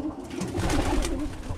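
Birmingham Roller pigeons coo inside their loft. The low, rolling coos run together steadily and sit close, fairly loud and continuous, with no voices over them.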